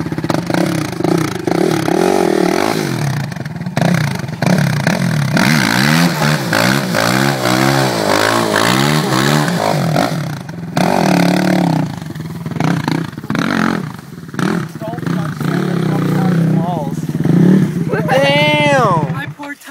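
A Suzuki 450R motorcycle does a burnout on top of a Subaru's hood, its engine revving hard and howling for a long, sustained stretch with fluctuating pitch, loud and close, while people talk and shout over it.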